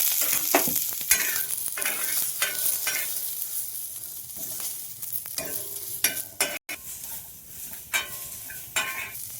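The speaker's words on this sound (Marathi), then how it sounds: "थोडंसं तेल टाकून घेतलं. तेलाने लवकर कांदा भाजला जाते." Onion fries in a little oil in a pan, a soft continuous sizzle with irregular scrapes and taps of a spatula stirring, fairly quiet and without speech.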